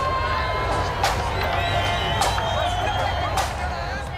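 A crowd of Protestant residents gathered at a band march in Northern Ireland, a steady hubbub of voices and occasional shouts at moderate distance, with a narrator speaking over the noise.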